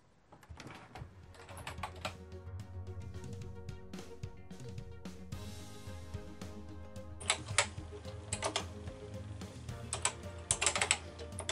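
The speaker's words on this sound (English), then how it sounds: "So all it's left to do now is to type the code into the computer." Program code for a BBC BASIC game being typed on a computer keyboard, a steady run of close keystrokes with bursts of faster clatter and louder key hits toward the end, no voices.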